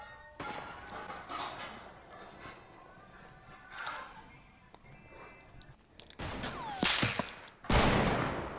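Sniper fire in a first-person shooter game: scattered sharp gunshot cracks, with two louder bursts toward the end, over a busy, muffled game soundscape.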